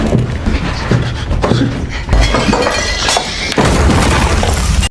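An antique chest falls and breaks, giving loud crashing and shattering impacts in several bursts over a dense, continuous noisy background.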